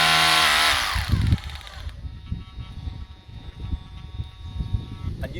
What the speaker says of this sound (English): So it's just an STS drill, it's got a hammer action.